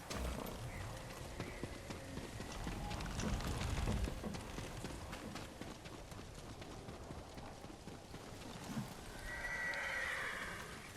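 Horses in the snowy world of Ghost of Tsushima whinny and neigh while hooves clip-clop steadily underneath, with louder neighs near the start and end over a busy game background.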